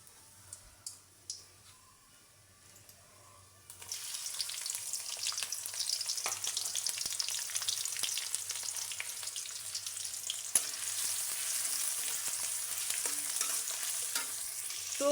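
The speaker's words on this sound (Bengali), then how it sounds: "পেঁয়াজটা আমার ব্রাউন কালার করে ভাজা হয়ে গেছে" Onions frying in a pan until brown: after a few quiet clicks and taps, a steady close sizzle starts and continues, broken by occasional scraping stirs.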